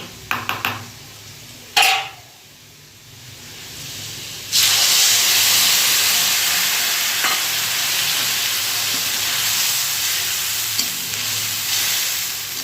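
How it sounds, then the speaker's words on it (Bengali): Prepared spice paste hits hot oil with sugar in a pan for a dhokar curry, bursting into a loud, sustained sizzling hiss after a few short clatters at the start. "এবার এই মশলাটা যে রেডি করে রেখেছি আমি আগে থেকে, এই মশলাটা দিয়ে দেব।"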